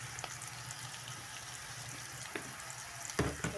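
Spiny gourd frying with chili powder in a pan, a continuous close hiss of sizzling oil with a few light stirring scrapes and a louder clatter near the end, no voices.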